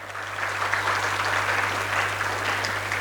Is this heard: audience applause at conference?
yes